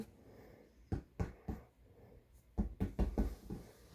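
A series of sharp taps on a hard surface, a few spaced hits followed by a quicker cluster, close and fairly quiet.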